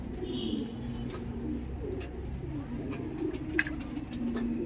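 Pigeons cooing softly in a breeding loft, a low repeated murmur with an occasional faint chirp over light background noise.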